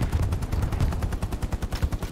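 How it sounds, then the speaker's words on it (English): Machine gun laying down suppressing fire in the World War II shooter Hell Let Loose, a loud rapid stream of sharp shots in a steady rhythm, close and uninterrupted for the whole stretch. "The machine gunner tries to lay down suppressing fire."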